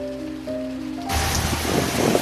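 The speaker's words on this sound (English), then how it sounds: "it's still raining outside" Steady rain falls outside, heard as a broad wash of hiss and patter that swells louder after about a second, with a low tonal hum underneath at the start.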